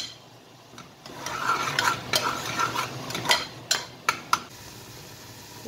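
Biryani kushka masala sautés in oil with a steady sizzle while a metal spoon stirs and scrapes the pan in a few distinct strokes, ending with sharp clinks, close by and without voices.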